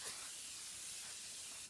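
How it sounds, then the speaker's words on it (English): A L'Occitane Perfecting Mist bottle gives one continuous fine spray lasting nearly two seconds, a steady close hiss that stops abruptly, with no voices. "I love that it's a continuous spray"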